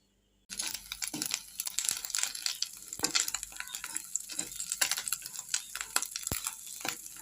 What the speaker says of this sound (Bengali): এই কড়াতে আমি সর্ষের তেল দিয়ে দিলাম তো চলো মাছগুলো আগে আমি ভেজে নিই